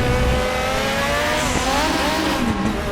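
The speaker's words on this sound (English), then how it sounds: "Oh, I think the gearbox is starting to go." A Group 5 Zakspeed Capri race car at Zolder in RaceRoom with a failing gearbox, its engine droning loud and close at high revs, pitch dipping and sliding as gears fail to engage, with faint tyre noise.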